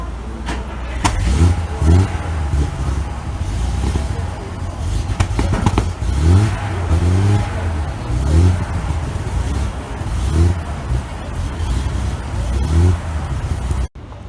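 A classic Ferrari 250 GT Pininfarina coupé engine revs close by in repeated throaty bursts that rise and fall, with voices talking over it.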